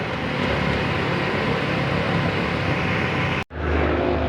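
Suzuki Ciaz engine idling roughly with a misfire, a steady loud engine drone that cuts out abruptly near the end and then resumes.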